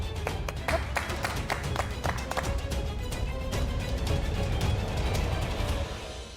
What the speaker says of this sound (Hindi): फिर तो ताली फिर से बनती है